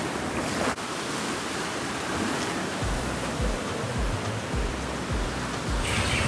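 Sea waves wash up on a beach, a steady broad roar of surf with rhythmic surges and wind buffeting the microphone.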